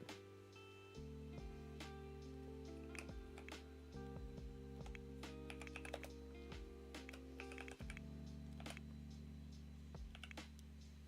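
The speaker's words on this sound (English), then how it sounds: "This new keyboard is so loud." Keys clatter on a loud new computer keyboard in quick, uneven bursts of clicks, close and fairly quiet over a steady low background hum.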